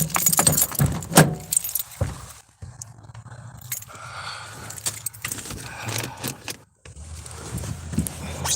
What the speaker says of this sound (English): Take in the big set of keys